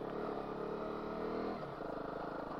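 A Honda CRF250 Rally motorcycle engine pulling hard uphill on a forest road, a loud steady throbbing drone whose pitch dips and shifts midway as the load changes.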